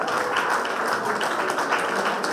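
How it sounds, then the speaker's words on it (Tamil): An audience at an educational trust's prize ceremony claps continuously as an award winner comes forward, the clapping even and moderately loud. "பலத்த கரகோஷங்கள்."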